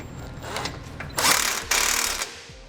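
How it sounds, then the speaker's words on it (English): Ratchet wrench tightening a subframe bolt while installing a vehicle base plate, several quick clicking pulls in bursts, close and fairly quiet. "Okay, now we can tighten our subframe bolt that we have loosely installed."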